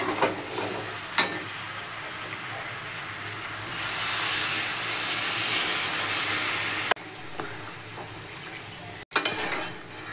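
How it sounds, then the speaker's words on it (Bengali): Frying chicken curry sizzles steadily in a pan, then a loud hissing burst swells as water is poured in, with occasional clinks of a utensil against the pot. "এবার জল দিয়ে দেবো।"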